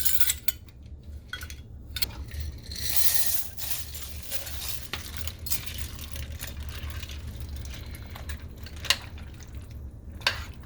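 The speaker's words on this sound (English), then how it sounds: "you still have the step of putting your pasta in" Pasta tipped into a slow cooker of chicken bacon ranch stew, with close wet clinks and scraping against the pot, light patter of liquid, and a few sharper knocks near the end.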